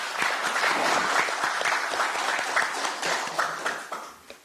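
A crowd at a party's Gwangju campaign rally applauds its city chapter chairman with loud, dense clapping that holds steady, then thins into scattered claps toward the end.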